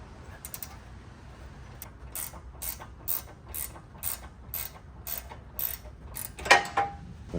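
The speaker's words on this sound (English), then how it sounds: "you have to loosen this nut here with a 15mm wrench or socket" A 15mm wrench ratchets on the drag link adjuster nut of a Jeep Rubicon 392 during a lift kit install, giving about a dozen evenly spaced sharp clicks close by, with a louder clank near the end.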